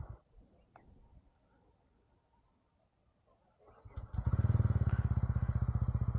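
A TVS Ronin motorcycle starts after a near-silent pause and settles into a loud, even, rapidly thumping idle that continues to the end.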